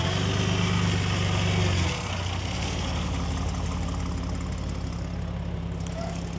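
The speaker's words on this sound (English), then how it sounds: "Listen to the sound of the V8 roar" A 426 Hemi V8 car engine runs at a classic and American car meet, a low rumbling idle that steps down in level after a couple of seconds and then holds steady.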